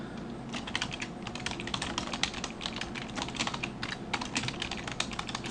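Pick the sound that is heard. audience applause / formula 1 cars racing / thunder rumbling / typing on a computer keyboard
typing on a computer keyboard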